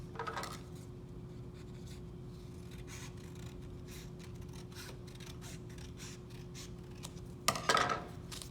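Scissors snip through a folded sheet of paper while making a handle for a children's Easter basket craft, soft rhythmic cutting and rustling close by, ending with a louder paper crinkle, no talk.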